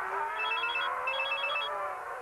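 A Nokia 6230 mobile phone rings in two short bursts of beeping electronic tones over music in the background, with no voices.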